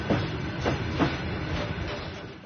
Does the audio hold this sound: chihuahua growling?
no